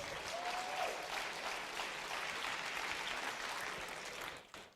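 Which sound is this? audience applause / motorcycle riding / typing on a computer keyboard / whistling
audience applause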